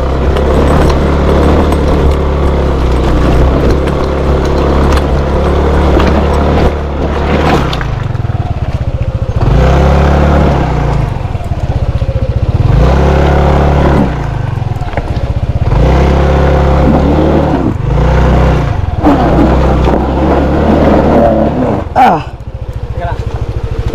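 A scooter engine labors uphill on a rough road, its low drone rising and falling in repeated surges as the bike strains, with rattling over bumps and people talking throughout.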